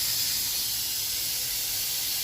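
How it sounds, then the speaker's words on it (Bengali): Steady broadband hiss of steam escaping from a pressure cooker with matar dal cooking inside, continuous and fairly loud with no breaks, heard alone without voices. "এই যে এখানে মটর ডাল বসিয়েছি, মটর ডালটা প্রেসারের মধ্যে দিয়ে দিয়েছি।"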